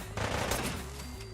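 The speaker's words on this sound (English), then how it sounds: "The Mr. Gutsy down here is shooting at nobody?" Mr. Gutsy robot firing in Fallout 4, a short, loud burst of rapid gunfire lasting about a second.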